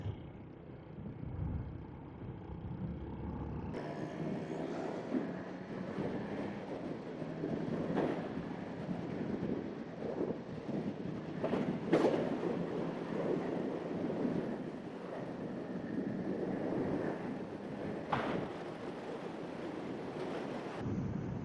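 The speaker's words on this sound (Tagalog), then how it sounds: "Ang lakas ng hangin ngayon kasi amihan na." Strong northeast monsoon wind on a mountain access road near Lambunao, Iloilo, a continuous roaring rush buffeting the microphone, swelling in gusts with no voices.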